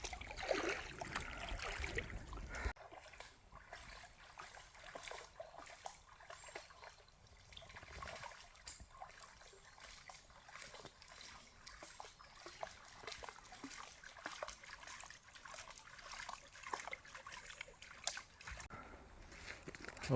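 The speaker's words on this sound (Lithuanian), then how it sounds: "Visada gerai, kai eini ir randi upelį" A small stream trickling through a forest on a summer walk, a faint steady gurgle and dribble close by, with a brief louder rustle at the start.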